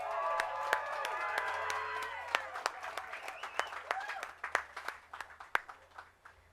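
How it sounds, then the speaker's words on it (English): A crowd at a Hollywood Walk of Fame star ceremony applauds and cheers for producer Teddy Riley, with scattered whoops and a few sharp nearby claps over steady clapping that gradually thins out. "Let's give him a big round of applause, you guys."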